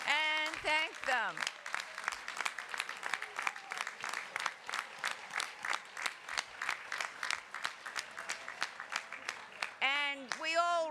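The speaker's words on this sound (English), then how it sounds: "give them a huge round of applause." Sustained applause from a large crowd at a university graduate commencement, with excited vocal whoops and cheers near the start and end.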